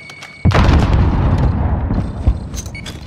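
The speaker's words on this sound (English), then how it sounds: "Throwing grenade." Grenade blast in Call of Duty: Warzone, a sudden loud boom with a long rumbling decay, followed by a couple of smaller distant pops and bursts near the end.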